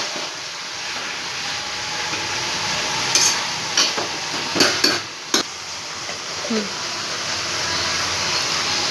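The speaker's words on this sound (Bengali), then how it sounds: "বাকি যে ঝিঙেটা দিয়েছি ঝিঙেটা থেকে তো আমি সবজিগুলোকে ভালো করে নেড়ে দিচ্ছি" Vegetables with ridge gourd are stirred in a hot pan, a steady sizzle with a few sharp clinks of a spoon against the pan in the middle.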